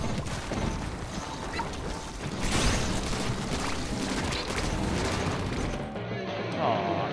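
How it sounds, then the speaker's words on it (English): Cannon fire in a Squid Game video game, heavy booming shots amid a dense, continuous clatter of game combat noise that cuts out abruptly near the end. "Oh, a cannon."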